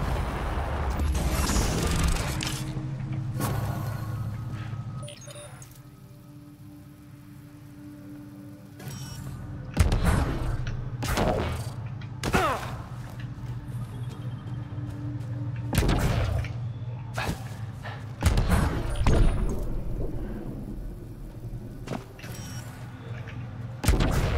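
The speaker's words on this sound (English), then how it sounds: "Deploying forward station." A forward station deploying in the video game Mass Effect: Andromeda, a mechanical sequence of heavy booms, crashes and clanking mechanisms over a continuous low rumble, with several loud impacts spread across the clip.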